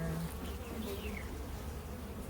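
Honeybees buzz steadily around an open hive, a dense continuous drone close by with no talk over it.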